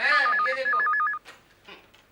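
A telephone rings with a trilling electronic bell in two quick bursts, loud and close, followed by a brief spoken exclamation and some faint background noise.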